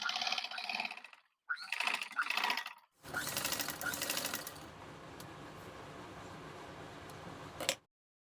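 Electric sewing machine stitching a hem on clothing, with two short bursts of rapid needle chatter followed by a longer, steady run of stitching that stops abruptly, close and fairly quiet.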